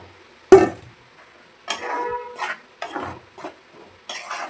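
A spoon stirs and scrapes roasted flour in a metal pan while making kozhukattai, a few separate clinks and scraping strokes, close and crisp, with quiet gaps between.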